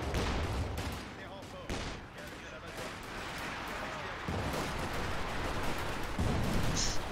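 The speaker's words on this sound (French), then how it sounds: "Katusha qui tire si je dis pas de bêtises" A Katyusha rocket launcher fires a rapid salvo in a World War II strategy game battle, its rockets whooshing and cracking in a dense barrage under excited commentary.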